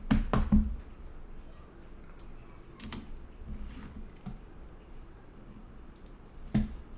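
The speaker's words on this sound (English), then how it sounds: "Oh wait, I'm using the wrong keyboard." Scattered computer keyboard clicks and taps, a quick burst near the start and isolated keystrokes later, fairly close over a low background hum.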